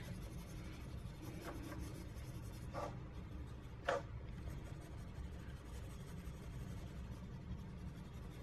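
Prismacolor colored pencil strokes on paper while shading skin tones, soft scratchy scribbles in a few brief passes over steady background hiss, faint and close with one slightly sharper stroke.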